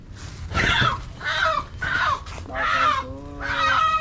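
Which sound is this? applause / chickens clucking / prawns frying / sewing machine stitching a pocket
chickens clucking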